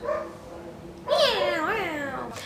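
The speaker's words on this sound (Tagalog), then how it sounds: "May nag-aaway talagang pusa." Two cats yowl and snarl at each other, a low drawn-out moan rising into loud wavering screeches, close by with no talking.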